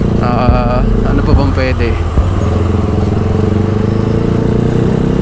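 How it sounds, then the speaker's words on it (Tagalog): Motorcycle with an open muffler exhaust, a loud, raspy engine running close by with a few revving bursts early on, then settling into a steady idle; someone speaks briefly over it. "Ayun lang naman yung problema sa open muffler, maingay at saka bulahaw."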